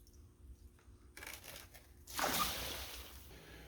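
Freshly picked spinach leaves are rinsed in water: a quiet start of faint handling, then a louder splashing swish of water over the leaves near the end.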